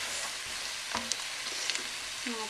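Beef stirred in a hot Dutch oven or cast iron pot for stew, giving a steady soft sizzle with a few scrapes and clinks of the spoon, close and alone.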